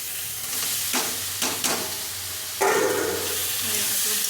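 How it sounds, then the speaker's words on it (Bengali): Pointed gourd and potato pieces are stirred through a cooked spice paste in a hot pan, giving a steady low sizzle with a few sharp scraping clatters of the spoon and a louder stir near the end. "পটল আলুটা ভালো করে নাড়াচাড়া করবো।"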